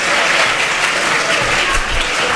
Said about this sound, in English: Give yourselves a round of applause for being a model of audience behavior.